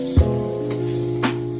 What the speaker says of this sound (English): This is just cooking spray.